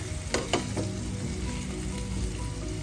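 Potatoes sizzling steadily in hot oil with salt and turmeric, two sharp scrapes of a stirring utensil near the start over a constant frying hiss, no voices.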